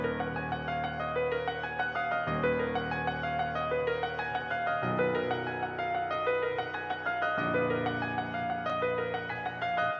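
An FL Studio melody plays high piano-like notes over deeper bass notes in a steady, looping pattern. Chord changes come every couple of seconds, moderately loud and reverberant, with no talking.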